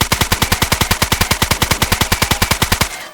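Rapid full-auto fire in DayZ, point firing in third person at point-blank range: about thirty evenly spaced, loud shots in a steady burst lasting three seconds, then abruptly stopping.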